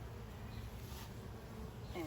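Honey bees buzz around a small, young hive colony during a beekeeper's inspection with a smoker, a steady close insect hum filling the clip with no talk.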